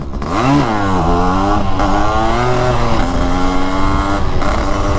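A modified 1985 Yamaha RXZ two-stroke motorcycle revs up in second gear, its loud close engine note rising and falling in pitch as it accelerates.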